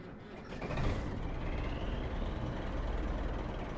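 A truck engine turns over and catches, swelling after a brief moment into a steady, loud low rumble close by, with no voices.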